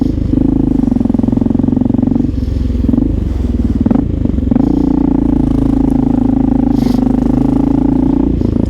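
A Honda XR650L motorcycle engine runs steadily while riding through New York City streets, a loud continuous thumping drone with brief dips where the throttle eases off before pulling again.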